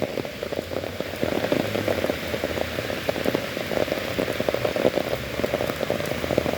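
Steady rain pattering outdoors on a rainy day, heard from beneath an umbrella while walking, a dense close hiss of drops with scattered louder taps throughout and no talking.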